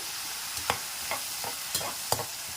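Raw green tomatoes sautéing in a pan for a pickle, with about five soft scraping stirs at irregular intervals over a low, quiet sizzle and no talking.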